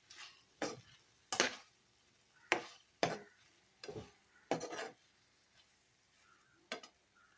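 A spoon mixes Kashmiri chilli powder and turmeric for egg chilli, giving sparse, quiet scraping clicks against the pan at irregular intervals, close up with no voices.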